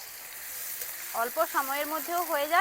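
Carrot frying with spring onion stalks and chopped onion, a low steady sizzle running throughout while a voice talks over it in the later part.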